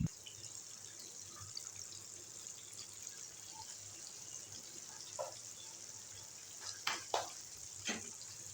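Breaded zinger burger chicken pieces fry in hot oil with a soft, even sizzle, joined near the end by a few close clicks and scrapes from a utensil.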